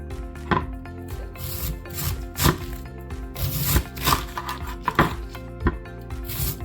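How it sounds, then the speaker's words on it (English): Knife chopping lettuce into big chunks on a cutting board, a series of sharp, irregular chops with brief scraping in between, close and moderately loud, no talking. "when cutting your lettuce, you want it in big chunks"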